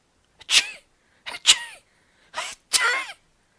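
A narrator reading a fairy tale audiobook voices a series of sneezes, four loud, close theatrical sneezes spaced with short pauses, the sound imitated by the reader's voice.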